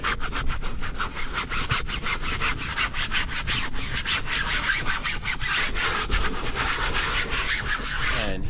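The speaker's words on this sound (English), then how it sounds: "right here you're really just scrubbing in the cleaner" A stiff brush scrubs cleaner into stained cloth car seats in rapid back-and-forth strokes. The rough, continuous scratching is close and fairly loud, with no voices.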